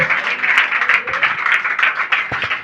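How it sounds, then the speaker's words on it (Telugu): A church congregation claps together in a loud, dense burst of handclaps that carries on steadily throughout, with some voices faintly mixed in. "మరొకసారి చప్పట్లు కొట్టాలి"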